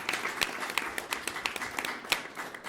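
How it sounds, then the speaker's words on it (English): A group of people gives a brief round of hand clapping at a youth camp event, with scattered sharp claps forming a moderate, steady patter throughout. "Just give a hand clap for Project Impact."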